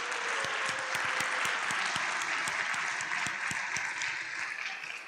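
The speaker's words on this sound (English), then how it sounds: "stand up so that we can applaud you once more" An audience at the ICPC programming contest opening ceremony applauds the teams, a dense, steady wash of clapping from a large crowd that fades slightly at the end.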